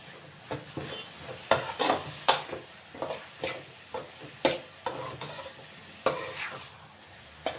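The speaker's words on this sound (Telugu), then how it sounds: "ఇదిగోండి ఇలా కలుపుకుంటున్నాను" A Telugu-style cabbage fry is stirred in a pan, with a spoon scraping in repeated, uneven strokes over a soft sizzle, close and fairly loud, with no talking.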